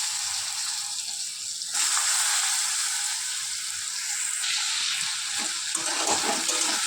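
Cut potatoes drop into hot oil seasoned with panch phoron, giving a steady loud sizzle and hiss that swells as they hit the pan, with no talk.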